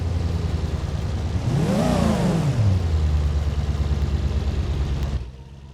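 Heavy-duty hauler truck in the BeamNG driving game held at full throttle in first gear, engine revving up in pitch and then settling into a steady loud strained drone before cutting off abruptly at the end.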